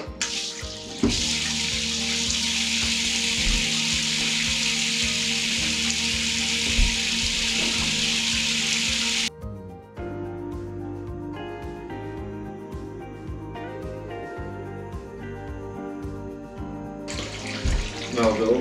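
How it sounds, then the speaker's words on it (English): Water from a tap pours steadily into a bathtub being filled to test its pop-up waste and overflow, a loud, even gush near the mic. It stops abruptly midway, leaving quieter dripping, trickling and faint clinks before the flow returns. "fill all the bathtub with water to check even the overflow"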